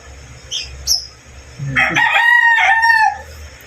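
A rooster crows once, a loud, close drawn-out call after a few short chirps.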